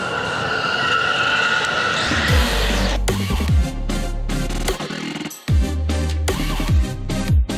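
An electric car driven hard on a test-drive course at the LA Auto Show, with repeated loud tire squeals and skids as it whips through turns, sounding fairly close amid an open crowd-space ambience.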